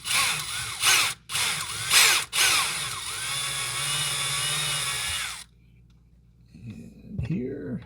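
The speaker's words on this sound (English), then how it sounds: "Drilling a pilot hole." A power drill bores a pilot hole while a light fixture is being installed, with a few short bursts and then a steady whine lasting several seconds before it stops. Faint low voices follow at the end.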